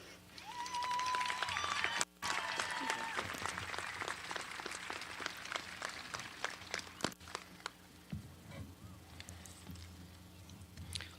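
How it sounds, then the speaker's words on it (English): An audience at a senior celebration ceremony for a career center applauds in a sustained burst of clapping, fairly close. The clapping thins toward the end, and a brief tone and a little talk come through at the start. "Let's give Caitlin another round of applause."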